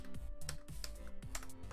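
Quiet, close computer keyboard typing, a short run of soft key clicks spaced irregularly over a low background hum.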